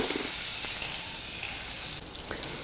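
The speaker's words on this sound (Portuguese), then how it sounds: "Eu vou colocar aqui a manteiga." Butter melting in a preheated pan on the stove for a white sauce, giving a steady close sizzle and frying crackle that continues throughout with a slight shift near the end, no talking.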